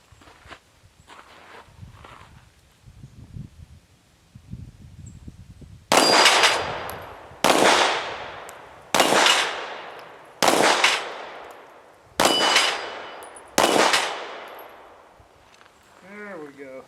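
A Kel Tec P-15 rifle fitted with a backstrap is fired six times outdoors at a range, each shot a loud, sharp crack with a long fading tail, spaced about a second and a half apart after some quieter handling sounds.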